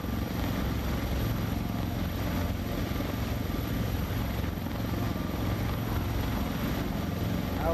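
A Sikorsky S-76C helicopter in a flight simulator flies low toward Las Vegas, its turbine and rotor drone filling the recording as a loud, steady, unbroken rumble with no voices.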